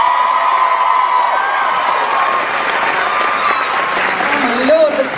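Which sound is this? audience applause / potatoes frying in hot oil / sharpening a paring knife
audience applause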